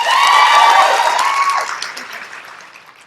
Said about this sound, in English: I'm going to yield my first 5 seconds to give additional applause to this young lady